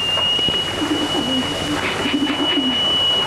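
Racing pigeons kept by a pigeon fancier coo softly in repeated low phrases, close by over a steady background hum.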